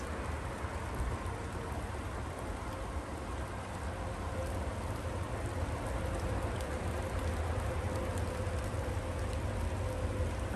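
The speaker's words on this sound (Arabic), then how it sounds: "شوفوا معايا باقي النص يطيح الشتاء والنص كيطيح الثلج" Rain that is turning to snow falls steadily and densely on a cold morning, a continuous close hiss of drops striking surfaces with no pauses.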